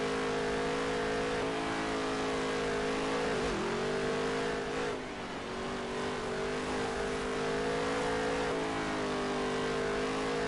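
A race car at Charlotte Motor Speedway holding a loud, sustained engine drone with a brief dip and recovery midway as the throttle eases and comes back on, close and continuous.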